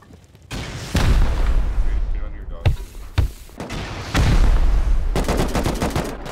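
Rocket launches and blasts in the survival game Rust, heavy booming bursts at about one and four seconds trailing into rumbling, with a quick crackle of rapid gunfire near the end, loud and close with talk mixed in.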